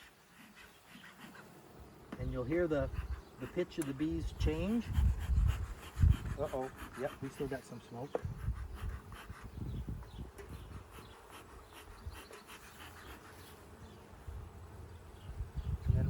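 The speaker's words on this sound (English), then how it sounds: "you'll hear the pitch of the bees change" Honey bees buzz and drone around an opened hive as smoke is puffed over them, their hum shifting in pitch, with someone talking over the steady insect noise throughout.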